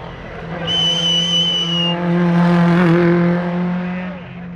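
A single race car engine screams at high revs at the 2010 Buzet hill climb, pitch climbing and holding, loud and close, with a faint whistling tone early on.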